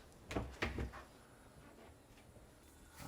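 Push and pull doors of a mechanical room in a tiny house, giving two quick close knocks and a soft rattle as they are handled, then quiet room tone.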